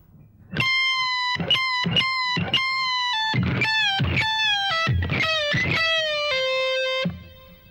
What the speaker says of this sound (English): Our next section features some pre-bends and sounds like this.